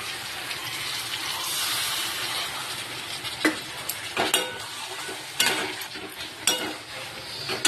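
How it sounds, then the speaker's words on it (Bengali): Potatoes, chicken, onion, garlic, ginger and spices sautéing in a pan, with continuous sizzling and several sharp scrapes and clatters of a stirring spoon against the metal. "আলু, মাংস, পেঁয়াজ, রসুন, আদা, মশলাপাতি সব দিয়ে কিন্তু আমি কষাবো, আর একটু একটু জল দেবো।"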